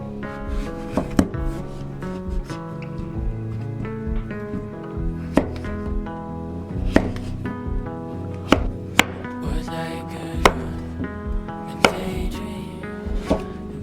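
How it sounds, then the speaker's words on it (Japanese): Knife chopping microwave-softened pumpkin into bite-sized pieces on a cutting board, repeated sharp close knocks at an uneven pace over a soft music bed, without talk. "レンジで少し柔らかくしてから食べやすい大きさに切る。"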